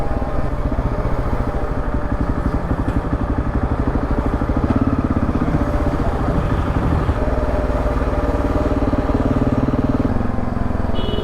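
Unmuffled car engine with the entire exhaust missing, running on a road in Iran with a loud, steady, raw rumble and rapid throbbing pulses continuing throughout, close by.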